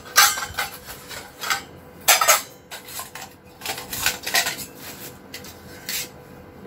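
Several bowls are picked up and knocked together, giving sharp ringing clinks in irregular clusters, close and loud, with short quiet gaps between them and no talk.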